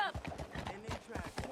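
Rhythmic hoof clip-clop of a horse galloping in the video game Red Dead Redemption 2, steady and prominent, with game voices and music mixed in over it.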